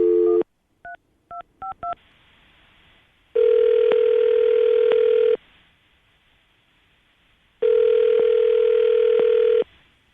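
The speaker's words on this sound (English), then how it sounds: "we'll call him, see if we can get him on the phone" Touch-tone dialing beeps in a quick sequence, followed by two long, loud ringback tones on a phone line separated by a silent gap.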